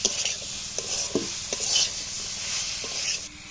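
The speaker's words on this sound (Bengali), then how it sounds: "এবার আমরা যে তরুকলাগুলো সেদ্ধ করে রেখেছিলাম এবার ওই মশলার মধ্যে দিয়ে দেব। তরুকলাগুলো দেওয়ার পর আবার ভালো করে কষে নেব।" Boiled torukola is stirred into a spice masala in a pan, with a spatula scraping and clinking against the metal over a soft, continuous sizzle, in irregular close strokes.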